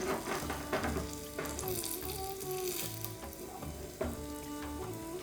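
Half-inch eggplant slices fry on a tawa over medium heat, giving a steady crackling sizzle with scattered pops, while tonal background music plays underneath.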